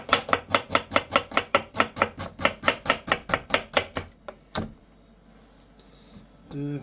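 A brown or white onion sliced on a board with a knife, about twenty quick, even, close chopping strokes in steady rhythm, then a couple of separate strokes before a brief pause.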